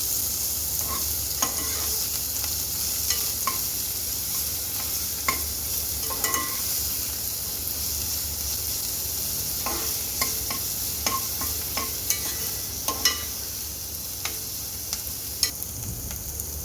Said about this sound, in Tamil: ஆனியன் நல்லா ஃப்ரை பண்ணிக்கலாம்.